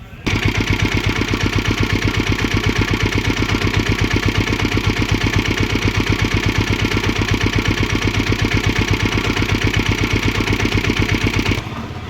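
A diesel Royal Enfield Bullet motorcycle engine with an altered rectifier-regulator unit starts up and idles loud and close in a steady, rapid thumping beat, then cuts off near the end.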